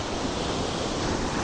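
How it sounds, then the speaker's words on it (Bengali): On a rocky seashore, a large wave's crash fades into an even, hissing wash of surf that stays moderately loud throughout. "একটা ঢেউ আসছে বিশাল বড়"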